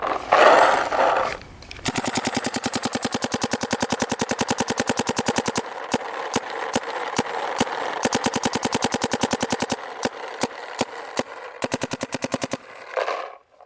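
Rapid, steady paintball marker fire through a Carbon IC injected carbon barrel fitted with Freak XL inserts, a long run of sharp near shots in a fast even rhythm with a few brief pauses, after a short burst of other noise at the start.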